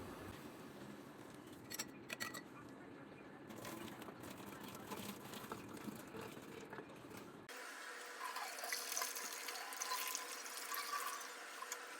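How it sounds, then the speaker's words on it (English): Water runs and splashes for boil washing a doll's rerooted hair (Monster High Robecca Steam), a continuous close rushing stream that turns fuller and brighter in the second half, with a voice partly heard over it. "this is the first round of boil washing"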